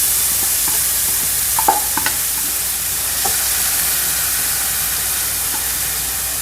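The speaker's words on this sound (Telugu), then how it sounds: "ప్యాన్ హీట్ అయ్యి బటర్ కూడా హీట్ అయింది కాబట్టి వెజిటేబుల్స్ అన్నీ వేసేద్దాం దాంట్లో" Vegetables frying in hot butter in a pan for a vegetable omelet, a loud, steady sizzle and hiss throughout with a few utensil clinks and scrapes near the start, close by and no talking.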